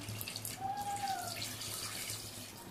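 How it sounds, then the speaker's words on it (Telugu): A faint stream of water pours and trickles steadily into a cooking pot of mutton and gongura curry, with a brief rising tonal squeak in the middle over low background hum. "కొంచెం వాటర్ పోస్తున్నాను."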